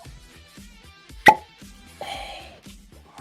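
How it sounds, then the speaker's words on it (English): A cork pops sharply from a bottle of Michter's rye whiskey. The single crisp pop sits between stretches of quiet talk. "A plus plus cork pop."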